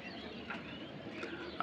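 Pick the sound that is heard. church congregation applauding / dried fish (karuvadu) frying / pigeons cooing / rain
pigeons cooing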